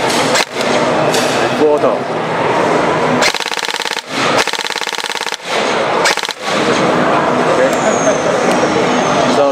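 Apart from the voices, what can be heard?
BOLT airsoft AR recoil gun firing single shot then bursts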